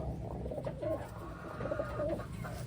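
Soft, repeated cooing of a pigeon or dove, low and rounded, several phrases in a row with a steady murmur of background noise.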